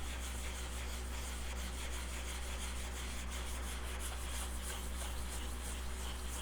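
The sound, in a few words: light prep sanding of motorcycle fairings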